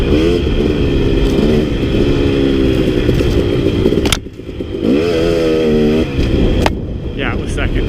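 A gutted KTM 250 XC two-stroke dirt bike climbing steep, tight switchbacks in second gear, its loud buzzy engine revving and rising in pitch close by with a brief dip in the middle, while a rider talks over it.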